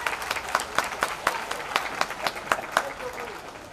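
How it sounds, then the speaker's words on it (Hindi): Clapping from an audience at a Hindi-language election speech, scattered and moderately distant, with sharp individual claps standing out over a diffuse background and tapering off toward the end. "तो ताली बजा दी इसी बात पर।"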